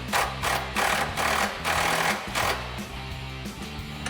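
A 10mm socket drives the mounting bolts of a front bumper on a 2021-2023 Ford F-150, likely with a power tool, giving rapid mechanical bursts roughly every half second, close up and loud.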